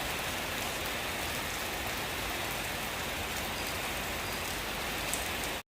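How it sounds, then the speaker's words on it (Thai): Heavy rain pours down in a dense, even hiss of drops striking surfaces, loud and unbroken throughout, with no talk, ending abruptly. "บรรยากาศฝนตก"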